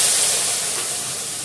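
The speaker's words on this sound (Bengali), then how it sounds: "এবার আলুটা দিয়ে দেবো।" Potatoes hit a hot pan for a spicy Bengali dish with green chilli, giving a loud, close, continuous sizzle and hiss that slowly eases.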